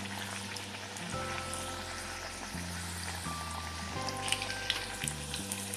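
Alu vadi slices frying in oil on a medium flame, a soft steady sizzle running under a low hum.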